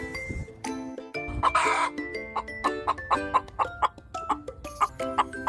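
A hen clucks repeatedly in short, rhythmic bursts, close and fairly loud, with a brief harsher squawk near the start.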